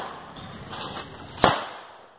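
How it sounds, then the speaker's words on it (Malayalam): Firecrackers burst during festive crowd celebrations at a first-day film screening. One sharp, loud crack stands out among fainter pops, with the noisy surroundings audible around them. "നോക്കൂ, നമ്മുടെ ബ്രോസ് ഇപ്പൊ പടക്കം പൊട്ടിക്കുകയാണ്."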